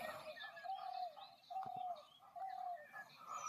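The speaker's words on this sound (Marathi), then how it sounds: "बघू शकता इकडं पक्षी पण इथं बसलेले तारेवरती" Birds perched on a wire in a quiet rural village give soft cooing calls at intervals, fairly faint and distant over a still background.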